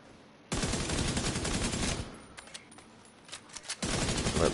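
Bursts of AK rifle fire in The Division 2, loud and close, with a long sustained volley, then scattered single shots, then another heavy burst.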